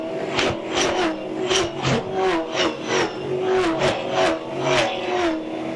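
Touring race cars at turn 11 of the Darwin Triple Crown motor race in 2011, several engines roaring and revving in quick succession as cars power through the corner, loud and continuous with rising and falling pitch.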